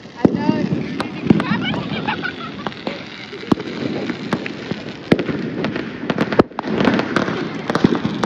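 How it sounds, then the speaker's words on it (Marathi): Rope bomb firecrackers burst at a festive outdoor celebration, with sharp cracks scattered through the clip and a few louder bangs. Voices talk over the blasts. "ही पण आता रशी बॉम्ब फेकायचा प्रयत्न करते"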